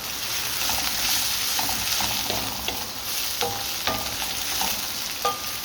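Chili flakes dropped into a hot Balti pan, a steady loud sizzle of frying with scattered stirring clinks and scrapes over the hiss.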